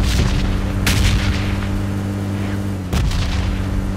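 Two loud, booming gunshots ring out about two seconds apart in a PUBG Mobile match, each with a lingering echo over a constant droning hum.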